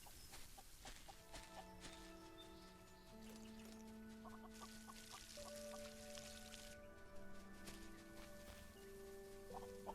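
Chickens clucking in the farming video game Solarpunk, soft repeated clucks over a steady ambient background with tonal game music, faint and continuous with no talk.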